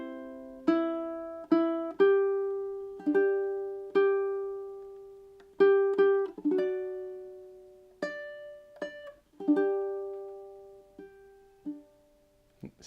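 Solo ukulele plays a melodic line from a folk song, plucked notes in a steady rhythm with softer filler notes between melody notes, close and clear with no talking.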